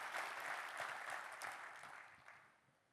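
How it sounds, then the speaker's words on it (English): A keynote audience at an enterprise technology conference gives a short round of applause for customers, a dense crowd clapping that fades away within about three seconds. "Could I request a big round of applause for these amazing customers who have volunteered to do that to benefit us all?"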